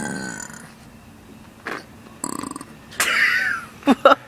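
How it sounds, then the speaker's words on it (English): A deep, guttural human belch forced out on request, heard as several short rumbling bursts and a longer croaky one, close and fairly loud in a quiet room with no talking. "do the deepest belch you could do"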